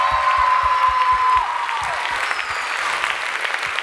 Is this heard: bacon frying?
no